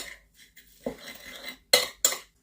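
Breadcrumbs and flour are stirred together on a plate with a utensil, with soft scraping strokes and then two sharp clinks of metal against the dish near the end.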